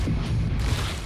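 A big area-of-effect explosion in the Othercide video game, a deep, heavy rumbling boom that fills the short moment with dense low-end roar and no talking.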